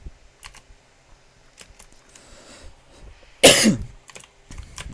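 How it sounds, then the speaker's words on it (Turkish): A single loud, harsh cough bursts out partway through, alone over faint computer keyboard typing and quiet Minecraft gameplay sounds. "Evet bir öksürük geldi kusura bakmayın"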